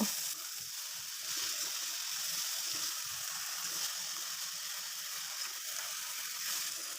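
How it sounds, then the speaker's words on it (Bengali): Bathua greens frying in oil with garlic and green chili make a continuous, close hiss and crackle that holds steady throughout with no voices. "শাকগুলো ছেড়ে দিয়ে দিয়ে দিচ্ছি রসুন ও কাঁচামরিচ এবার নেড়ে চেড়ে হালকা করে ভেজে নেব"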